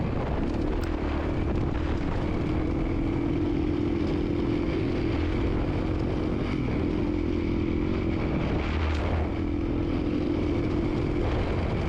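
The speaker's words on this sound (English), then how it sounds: "keeping the speed a little moderate because there's these baby head boulders all over the place that keep bouncing the bike" A rally motorcycle rides the last day of the Baja Rally over rocky terrain strewn with small boulders, its engine droning loudly and continuously with wind noise and clattering jolts as the bike bounces over rocks.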